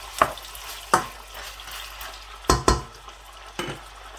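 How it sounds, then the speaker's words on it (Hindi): Chicken pieces dropped into a hot pan for chicken jalfrezi, a soft steady sizzle broken by several sharp clinks and scrapes of stirring against the pan. "इस तरीके से चिकन ऐड कर लेना है।"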